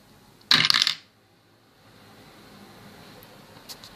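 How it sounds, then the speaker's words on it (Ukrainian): A short burst of clattering as a small Lego candy machine shoots out a candy, then quiet with a faint click near the end. "І о, конфетка вилітає, але е, вона там задержується."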